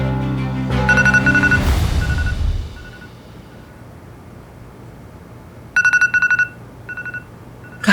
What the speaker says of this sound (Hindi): गायत्री जी का फोन है